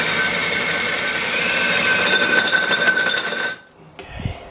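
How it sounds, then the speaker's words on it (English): A drill boring a hole through metal on a 2JZ-swapped Nissan 300ZX build, a loud steady high whine with grinding texture for several seconds that cuts off abruptly, followed by faint handling noise. "I guess we're drilling a hole right there then, Jared."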